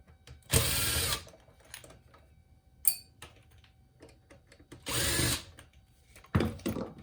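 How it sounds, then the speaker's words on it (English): Phillips screws being backed out of a Toyota navigation unit during disassembly, heard as three separate loud bursts of powered driving, each about a second long, with faint clicks and quiet handling between them and no talk. "Remove these two Phillips screws."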